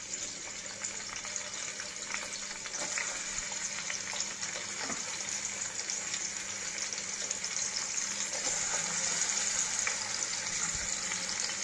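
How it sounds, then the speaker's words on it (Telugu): Onions added to hot oil for a mutton keema curry, giving a continuous dense hiss and crackle throughout, close and steady with no talking. "నూనె వేడెక్కిందండి. ఇప్పుడు ఆనియన్స్ వేసుకోవాలి."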